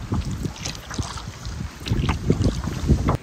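Wind gusts buffet the microphone on an Adirondack lake during a canoe camping trip, a loud uneven rumbling roar with small splashes and knocks mixed in, no voices.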